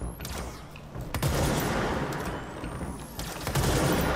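A few sharp gunshots from a weapon in the video game Control crack over a noisy, rumbling background, with bursts spaced irregularly across a few seconds.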